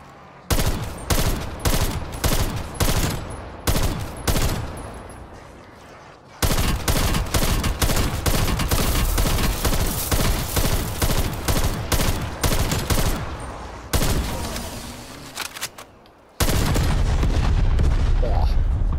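Gunfire in the shooter Call of Duty Cold War, loud and close, with rapid single shots at first and then long sustained automatic bursts that fill the scene, with brief pauses between volleys.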